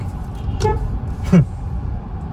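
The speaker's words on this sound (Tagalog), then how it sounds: "Ganda na ang busina" Two short toots from a Hyundai Creta's horn a moment apart, the second a bit louder, over a low idling hum.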